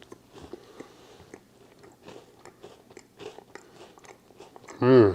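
A crisp chocolate chip cookie, browned at the edges with a soft chewy center, is bitten and chewed up close in a run of quiet crunches and mouth sounds, ending in a louder burst of noise.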